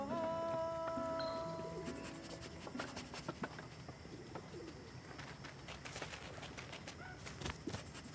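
A pigeon in the video game Endling: Extinction is Forever coos softly at the start, low and rounded, followed by scattered clicks, taps and faint background noise with no talking.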